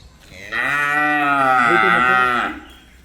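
A cow on a farm holding about thirty cows lets out one long, loud, close moo that swells and fades over about two seconds, with no talk over it.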